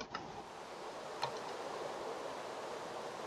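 Steady rain falls in a cold survival video game with a Fossils and Archaeology mod, a constant soft hiss with a couple of faint ticks, alone and without talk.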